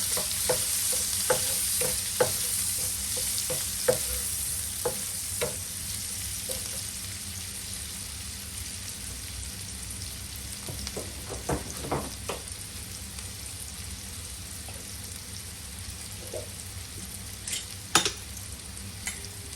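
Chopped onion frying in butter in a pan, a steady close sizzle with scattered stirring clicks and scrapes throughout, no voices.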